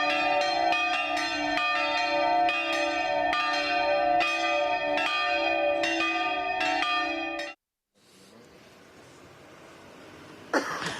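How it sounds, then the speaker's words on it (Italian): Church bells ring in a rapid, layered peal for several seconds, then stop abruptly, leaving quiet room noise and a brief cough. "campane a festa hanno suonato"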